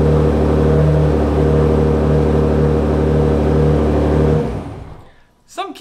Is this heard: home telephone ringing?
no